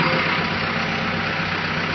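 Bulldozer diesel engine idling with a steady, dense, loud rumble and clatter, close by and unchanging throughout, with no voices.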